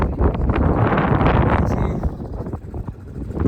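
Strong wind of a sandstorm among Sahara desert dunes roars and buffets the microphone in loud, gusty bursts, easing slightly toward the end.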